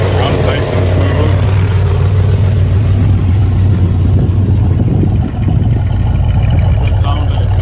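A classic muscle car with aluminum radiator, power steering and power brakes idles smoothly at a car show, its engine and exhaust producing a steady low rumble throughout, with people talking over it at times.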